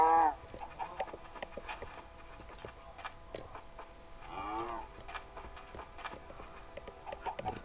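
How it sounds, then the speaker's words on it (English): Cow mooing in Minecraft, with a few short lowing calls, one near the start and one drawn-out moo midway, set against faint game ambience and scattered clicks. "I will find this cow."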